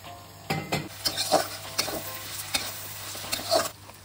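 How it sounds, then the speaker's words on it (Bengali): Ghee heating in a pan for prawn biryani, a soft sizzle with a few scraping stirs and light clinks of a spoon against the pan, close and quiet, with no one speaking. "ঘিটা গরম করে নিচ্ছি।"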